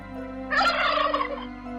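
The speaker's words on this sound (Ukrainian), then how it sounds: "Так, діти, це індик." A turkey gobbles once in a short rattling burst over a low steady hum.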